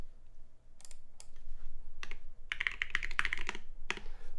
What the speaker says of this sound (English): All right, first ever typing test with ceramic keycaps.